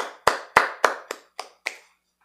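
A single person claps their hands six times at an even pace, crisp and close, with the later claps a little softer before silence.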